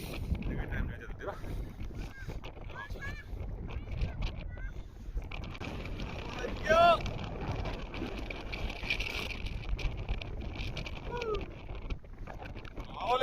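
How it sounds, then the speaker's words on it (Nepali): Strong wind blows across an open hilltop at Beacon Hill fort, a steady broadband rush buffeting the microphone for the whole stretch, with faint voices and a brief louder gust in the middle. "हावाले खत्तम गर्यो हावाले"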